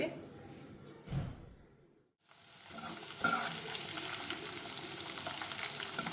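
Corn deep frying in hot oil in a kadai: after a short clatter and a brief near-silence, a dense bubbling sizzle rises and holds steady and close to the end, with no voices.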